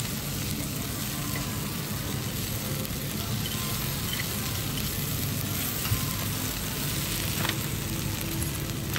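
A sizzling rice and noodle dish (cơm xèo, mì xèo) crackles hard on a hot plate, a loud, dense, continuous frying hiss with occasional pops, heard up close and alone for nine seconds.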